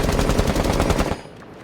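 Automatic rifle fire from Rainbow Six Siege, shot to practice recoil control: a loud, rapid, steady burst of shots for about a second, then it stops abruptly.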